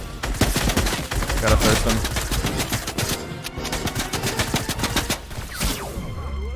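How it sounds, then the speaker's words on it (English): Rapid automatic gunfire from computer-controlled enemies in Fortnite rattles continuously, dense and loud throughout, with a brief spoken phrase over it. "His NPC friends are also shooting at me"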